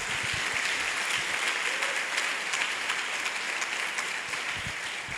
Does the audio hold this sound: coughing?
no